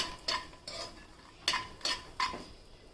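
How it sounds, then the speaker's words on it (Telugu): Makhana (fox nuts) stirred while frying in a pan, with a spoon scraping in five or six short, crisp strokes spaced out and fairly quiet, no voices. "ఇప్పుడు అదే క్యాన్లో మక్కన వేసుకొని వేపుకుందామండి."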